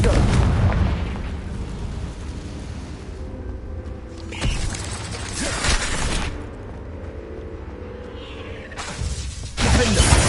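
Confringo spell blasts in the video game Hogwarts Legacy, booming explosions in bursts with rumbling in between and some shouting over them.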